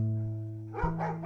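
Dogs at a dog park, with a sustained tonal sound first, then a few short barks or yips at moderate distance toward the end.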